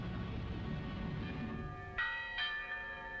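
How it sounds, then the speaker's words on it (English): Church bells ring out, two clear strikes after a stretch of low rumble, leaving a long resonant hum hanging in the air. "Once more, the people of Britain heard their church bells ring."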